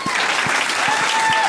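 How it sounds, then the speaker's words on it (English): Comedy club audience at The Comedy Mix claps steadily at the end of a stand-up set, a full continuous burst of applause. "Applause."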